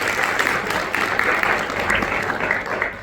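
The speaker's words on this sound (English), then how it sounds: "So another round of applause to Chuck" Sustained audience applause at a Flip Flop Day media launch, a dense, steady wash of many hands clapping at even loudness throughout, with faint voices mixed underneath.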